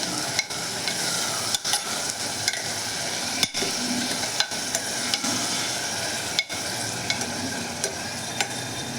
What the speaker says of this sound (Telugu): పెరుగును వేసుకుని చక్కగా కలిపెట్టుకోవాలి